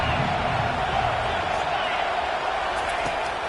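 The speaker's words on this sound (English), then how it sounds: "listen to this crowd roar" Stadium crowd at a football game roars in a dense sustained wash of noise while an announcer talks over it.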